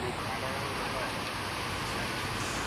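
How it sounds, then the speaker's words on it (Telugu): Heavy rain pours down outdoors in a constant, dense hiss, loud and unbroken throughout with no voices heard. "బయటకు వచ్చేసరికి ఫుల్గా వర్షం అయితే పడుతుంది"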